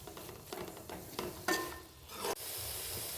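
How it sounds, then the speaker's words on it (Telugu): Amaranth leaves fry with coriander in a pan, a continuous sizzle broken by several scraping stirs of the spoon, close and fairly loud; no talking. "ఇప్పుడు ఇందులో లాస్ట్గా కాస్త కొత్తిమీర వేసుకొని మంచిగా కలుపుకొని"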